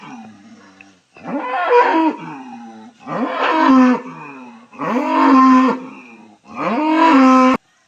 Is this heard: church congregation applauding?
no